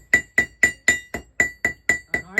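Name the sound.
blacksmith hammering hot iron on an anvil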